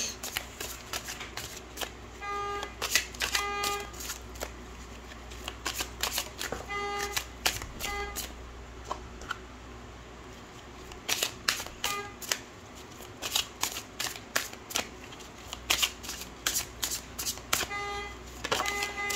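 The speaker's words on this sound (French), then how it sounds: "excusez-moi pour les bruits de klaxon, il y a des personnes extérieures a priori qui testent leur klaxon" Car horns honk outside in scattered bursts, several short toots and a few longer blasts, heard through the walls of a room where tarot cards are being shuffled and handled close by.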